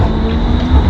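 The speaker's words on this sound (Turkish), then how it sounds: "Böyle bu tramvay da buradan U çiziyor." A tram turning a U-bend in Sarajevo rolls loudly along its rails with a low continuous rumble and a steady metallic hum, heard up close.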